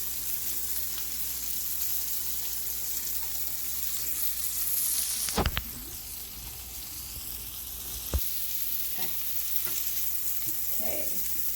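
Wild morel mushrooms frying in a browning skillet, a steady close sizzle with a sharp scrape or stir midway and a few faint clinks later; no talking.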